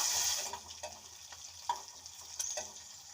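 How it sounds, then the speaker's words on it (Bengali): Fish pieces rubbed with salt and turmeric sliding into hot oil, a brief burst of hiss followed by quieter sizzling and a few soft clatters, close but low in level. "পরিমাণ মতন তেল দিলাম। লবণ হলুদ মাখানো মাছগুলো দিয়ে দেব।"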